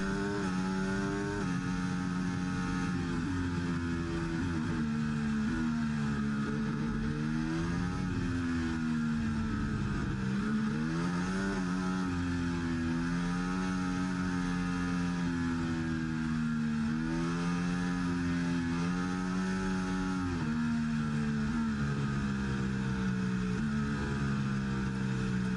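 F1 race car engines from the F1 24 video game on a formation lap at Imola, a continuous loud high-pitched engine whine rising and falling in pitch throughout.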